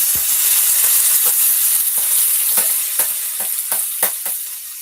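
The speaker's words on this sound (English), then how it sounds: "So I'm just throwing this in the oil." An ingredient for a smoked herring with butter beans dish sizzles steadily in hot oil, loud and close, with repeated sharp clinks of a utensil stirring in the pan.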